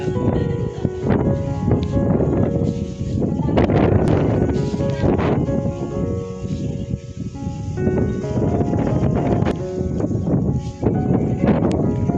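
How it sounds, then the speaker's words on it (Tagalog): Loud, continuous wind roars and buffets the microphone throughout at a hilltop castle, with people talking underneath. "Lakas ng hangin, no?"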